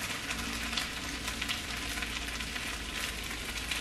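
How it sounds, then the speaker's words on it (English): Leftover rice and vegetables heat in a pan, giving a steady, even sizzle and crackle of frying with no talk, close and continuous throughout. "That's also why I'm heating that up on the pan."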